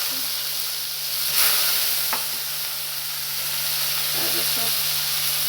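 Fish eggs fry in a pan with ajwain, green chili and onion for an Assamese fish-egg curry, a constant close sizzle and hiss with a few light clinks of stirring. A faint tonal hum runs underneath and there is no talk.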